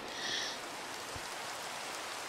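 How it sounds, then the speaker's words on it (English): Steady rain falls in a Minecraft-style blocky video game, a soft continuous hiss of drops with a brief brighter tone near the start. "It is raining."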